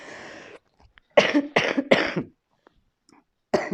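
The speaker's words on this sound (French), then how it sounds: "je crois que je vais tousser" Several harsh coughs from a sick woman, one then a quick run of three, with another starting at the end, separated by short silences.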